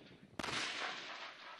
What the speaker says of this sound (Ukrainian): Вправлялися на влучність, стріляли майже наосліп, лише за координатами